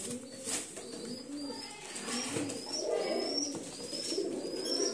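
Pigeons cooing inside a single-rack cage, soft repeated low coos from several birds close by, with a few faint chirps above them and no talk.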